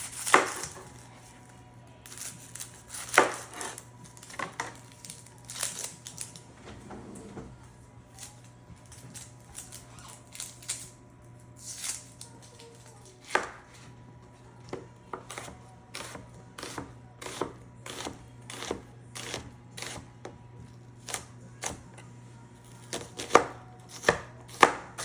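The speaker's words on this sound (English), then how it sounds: "so we're gonna chop this onion up" A knife chops an onion on a cutting board in a home kitchen, with rapid bursts of sharp, close knocks alternating with slower single strikes over a steady low hum.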